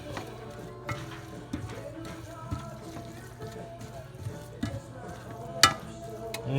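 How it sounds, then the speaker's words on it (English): A spoon stirs a seafood gratin mixture with wine, salt and pepper in a pan, giving soft, continuous scraping and sloshing close by with occasional knocks against the pan. "Go ahead and stir that back up."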